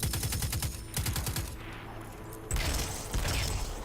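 Rapid automatic gunfire from the video game Destiny 2, several loud bursts of quick shots with a short lull in the middle before firing resumes.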